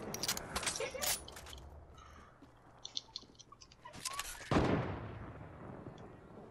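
Several sharp gunshot cracks in the Fortnite video game, a quick cluster near the start and a louder blast later, over a low background rumble.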